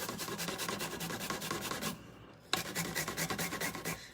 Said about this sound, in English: And just grate it right over your pot.